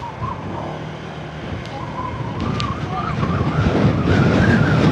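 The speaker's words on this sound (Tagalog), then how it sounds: "Lakas ng hangin." Strong wind roars in a steady, broadband rush, with road and engine noise underneath, growing louder toward the end.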